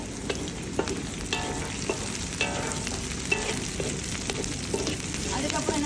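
Chopped ginger, garlic and onion fry in a pan with a steady, close sizzle, stirred now and then with light scraping clicks, and no voices over it.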